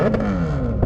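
A Honda CBR600 F sport bike engine revs hard at close range, its loud exhaust note sweeping down in pitch across less than a second with no voices.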